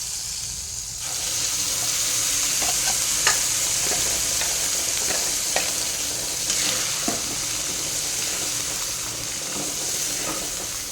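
Tomato coriander chutney tipped into a hot pan sizzles steadily while a spoon stirs and scrapes, a close, continuous frying hiss with occasional clinks.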